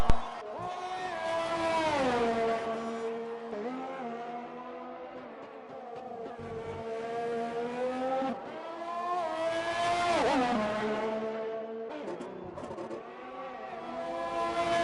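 A McLaren race car engine in a racing video game drones steadily, its pitch rising and falling through gear changes and revs, continuous and moderately loud with faint commentary beneath.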